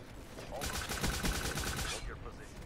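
A fast burst of automatic fire from a new gun in a video game, a rattling run of shots at moderate volume lasting about a second and a half.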